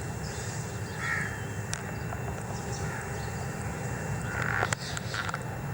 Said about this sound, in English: Birds make a terrible noise in the morning. Those are domestic crows.